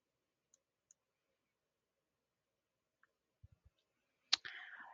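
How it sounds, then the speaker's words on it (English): A computer mouse clicks a handful of times, with sharp isolated ticks spaced across quiet and a louder click at the end, close and faint. "go ahead and click next to continue"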